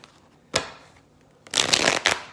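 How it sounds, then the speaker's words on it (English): Tarot cards being shuffled by hand: a short crisp riffle, a pause, then a longer burst of papery shuffling with two sharp slaps near the end, close and clear with no talking. "Maybe what's in our way is shuffling."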